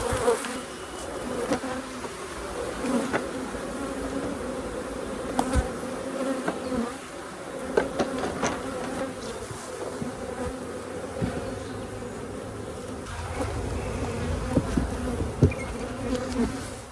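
Honey bees from a feral hive being split buzz in a dense, steady swarm drone, close and loud, with scattered louder passes of individual bees and no talking.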